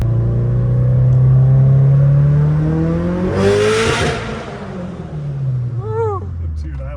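A Subaru STI engine revs up with a rising drone, then passes by close and loud and fades off, with short revving bursts near the end and people talking over it.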